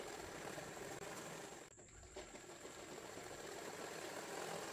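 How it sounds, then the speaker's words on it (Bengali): A sewing machine stitching a trouser seam, running as a steady rapid mechanical whir with a brief dip midway before it resumes, close and quiet. "এইখানে আমি এখান থেকে সেলাই করছি, নিচের অবধি সেলাই করে নেব পুরোটা"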